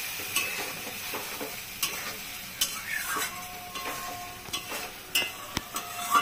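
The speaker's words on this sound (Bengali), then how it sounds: "সুন্দর করে নেড়ে নেব।" A spoon stirs katla fish curry with potatoes in a pan, giving scattered scraping clicks and knocks against the metal over a low simmering sizzle, close and fairly quiet with no talk.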